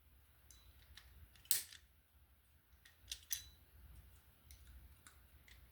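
Wire cutters snip through a wire at a defective wall receptacle on a multi-wire branch circuit, giving two or three sharp, close metallic clicks over a faint, quiet background.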